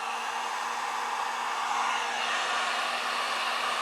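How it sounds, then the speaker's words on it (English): A heat gun blows steadily to shrink heat shrink tubing, a loud, continuous close-up whoosh with a faint whine running under it and no break. "Then we'll take our heat gun"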